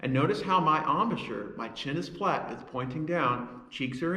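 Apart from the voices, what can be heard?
No distinct noise like a dog, phone or traffic.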